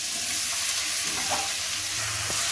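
Malabar spinach and shrimp sizzle steadily in a pan during cooking and are stirred now and then, giving a close, continuous frying hiss with soft scraping.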